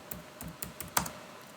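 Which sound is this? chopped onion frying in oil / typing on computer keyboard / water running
typing on computer keyboard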